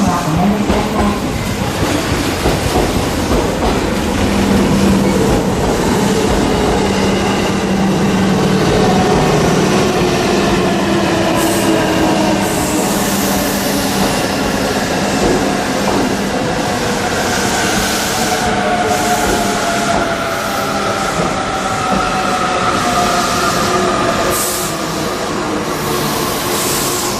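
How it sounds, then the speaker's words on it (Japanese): Tobu Noda Line 8000 series six-car local train pulling into a station, a loud sustained rumble of wheels and motors with rising and falling whine, steady and close throughout. "新鎌ヶ谷方面、各駅停車、船橋行きが6両編成で参ります。"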